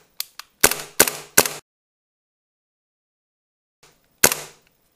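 A Tokyo Marui 1911 MEU airsoft pistol fires several sharp, snappy cracks in quick succession, falls silent for two seconds, then fires one more crack, each with a brief metallic rattle.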